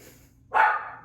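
A single sharp bark from a dog being looked after indoors cuts in suddenly and rings out briefly against a quiet room.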